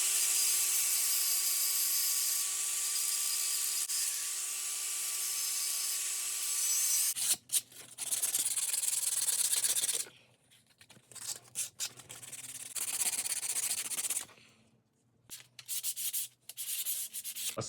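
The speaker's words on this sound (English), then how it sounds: "I'm just going to clean up some of the burrs that are on this and make it look pretty." Metal burrs filed off a homemade spear built from Lowe's hardware parts, heard first as a steady rasping rub with tonal ringing, then as repeated scraping strokes broken by short pauses, close and alone.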